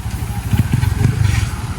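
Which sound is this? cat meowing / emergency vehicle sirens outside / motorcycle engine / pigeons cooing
motorcycle engine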